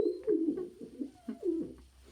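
Pigeons coo softly nearby, a few low, throaty bursts in an uneven rhythm with short pauses, quiet and alone.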